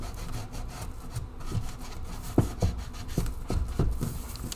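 Repeated rasping strokes of a sanding block rubbing across a She-Hulk bust, close and fairly quiet, in an irregular back-and-forth rhythm.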